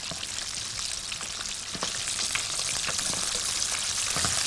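Fried chicken casserole sizzles steadily in a pan as it is stirred, a loud continuous frying hiss with scattered scraping taps from the stirring and no talk.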